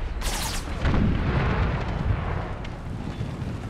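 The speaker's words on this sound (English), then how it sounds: "Some of the explosives. Quite effective if they explode." Explosive cannon shells burst in an Empire: Total War American Civil War mod battle, a dense roaring blast with crackling debris that rumbles on steadily at high volume for several seconds.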